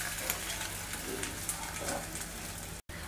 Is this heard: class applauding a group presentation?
no